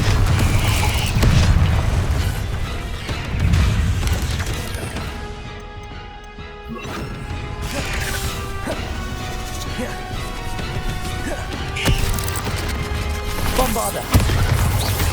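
Repeated fiery Confringo spell blasts from Hogwarts Legacy crash and boom in irregular bursts, loud and close, with clattering impacts and a sustained magical hum between hits.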